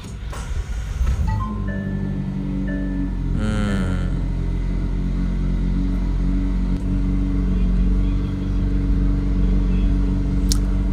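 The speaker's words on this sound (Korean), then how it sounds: "아, 엔진 예열." McLaren car engine warming up at idle, a steady low rumble with a brief rev-like swell early on, settling into a constant hum, with faint voices in the background.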